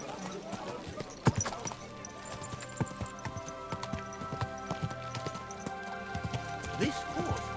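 Horse hooves trotting in the medieval game Kingdom Come: Deliverance 2, a quick steady clip-clop of a mare on the road with sharp irregular knocks, while a voice talks over it.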